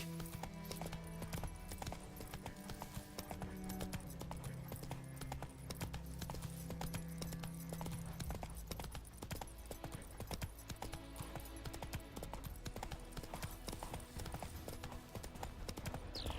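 Horse hooves clip-clopping in The Witcher 3, a fast, rhythmic run of hoofbeats continuing throughout at moderate loudness, with faint game ambience behind.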